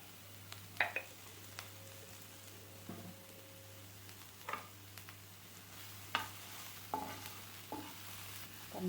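Chopped onion roasting with a pinch of salt in a pan for onion paratha filling: a faint, quiet sizzle punctuated by scattered light scrapes and taps of a spoon stirring, with no voices.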